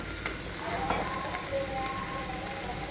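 Ground masala spices hitting a hot pan of frying okra (bendakaya): a steady, close crackling sizzle with soft pops throughout.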